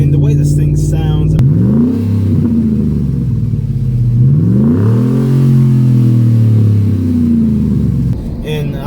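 A 2014 Ford Raptor truck engine revs loud and close, its deep growl sweeping up and down in pitch through several throttle blips before settling into a steady rumble.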